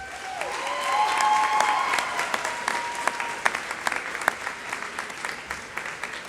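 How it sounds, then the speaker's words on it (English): Audience applause at a spring university honors convocation in Ohio, as graduates thank family and friends: steady clapping swells, then thins into scattered sharper claps, with faint tonal sounds over it. "please offer your family and friends your applause"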